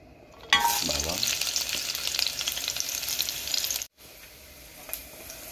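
Garlic drops into a hot pan and bursts into a loud, bright sizzle. The frying hiss continues with stirring, cuts out briefly near the end, then resumes more quietly.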